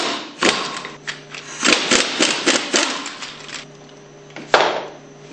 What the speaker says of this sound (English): Use your 1-inch socket to remove the valve caps.